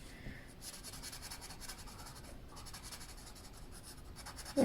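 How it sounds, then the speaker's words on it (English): Colored pencil burnishing on paper, a soft continuous scratchy rubbing with short back-and-forth strokes, close and quiet. "We're just going to be going in and burnishing, starting off with a light pressure and just working"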